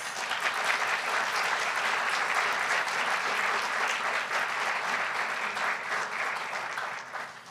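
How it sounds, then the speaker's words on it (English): Sustained applause from an audience at a community college's state of the college address, a steady dense clapping that fills the whole stretch and tapers slightly at the end. "Let's give them and all of these achievements a round of applause."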